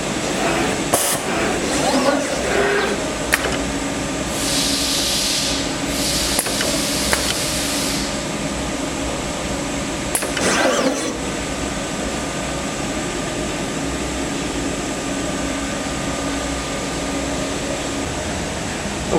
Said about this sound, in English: the needle will blow off the tip and vacuum away the excess solder